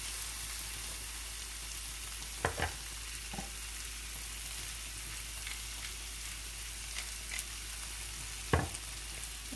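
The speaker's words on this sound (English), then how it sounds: "I got the meat still going in here, still searing." Beef shank pieces sear in a pot with a faint, steady sizzle, broken by two or three brief scrapes or clatters, quiet and without speech.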